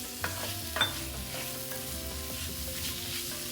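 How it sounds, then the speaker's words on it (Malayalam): Tomato sautéing with masala in a pan for Kerala-style chicken curry, a soft steady sizzle with a couple of stirring scrapes and clinks, moderately quiet and without talk. "അതുകൊണ്ട് ഞാനിപ്പോൾ ടൊമാറ്റോ അങ്ങ് ചേർത്ത് നന്നായിട്ട് വഴറ്റിയെടുക്കുകയാണ്."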